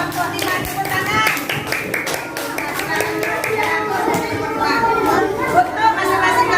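Children in a classroom clap their hands in a scattered, rhythmic burst, sharp claps overlapping with lively chatter and kids' voices throughout.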